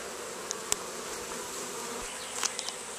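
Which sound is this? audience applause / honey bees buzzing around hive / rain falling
honey bees buzzing around hive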